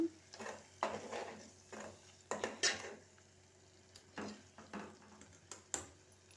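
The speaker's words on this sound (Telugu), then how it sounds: "ఇలా ఇవన్నీ వేసుకున్న తర్వాత మంచిగా కలిపేసుకోవాలన్నమాట చూడండి ఇలా కలిపేసుకోవాలి" Potato tomato curry mixed in a pan with a spoon, giving a series of irregular scraping strokes and clinks against the metal, each burst short and close, over a faint sizzle with no voices.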